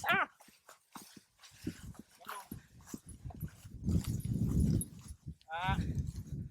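On a riverside walk near Aldeburgh by the River Alde, a dog whimpers in short high whines, mixed with people talking and footsteps close by.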